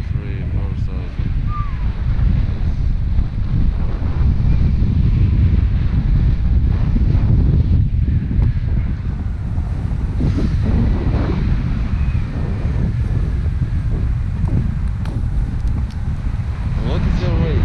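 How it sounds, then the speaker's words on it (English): Strong wind buffets the microphone with heavy, continuous rumbling gusts, while people talk faintly underneath. "Yeah, it's windy."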